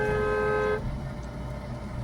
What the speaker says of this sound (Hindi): अब यहाँ पे लॉन्ग हॉर्न प्रेस करो,